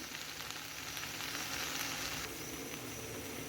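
Masala spices frying in a pan for a vegetable masala curry give a steady, even sizzle with soft crackles throughout, close and moderately quiet, with no talk.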